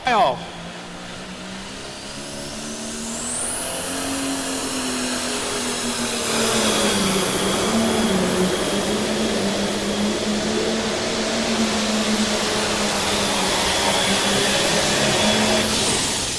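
A tractor at an indoor tractor pull roars at full strain with a rising, sustained engine wail and crowd noise, while an announcer talks over it on the public address.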